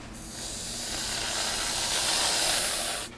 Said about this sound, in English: we're going to give it to you right out of the can